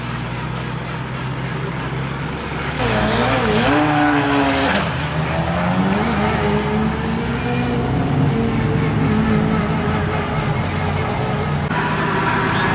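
Koenigsegg Regera hypercar running on a race track during a hypercar series event, a loud sustained engine roar with rising and falling pitch as it passes, over steady crowd and track noise.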